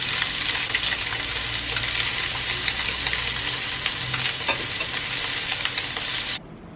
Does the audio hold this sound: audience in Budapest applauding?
no